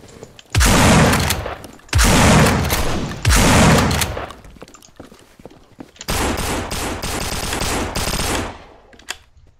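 Gunfire in Half-Life 2 Deathmatch: three loud, dense bursts of automatic fire, each lasting about a second, then a longer sustained rattling volley, with short pauses between them.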